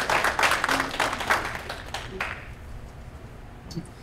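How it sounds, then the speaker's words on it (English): An audience at a community event applauds in a dense burst of clapping that fades over about two seconds, leaving a quiet room. "Applause yourself for coming here, being part of this process."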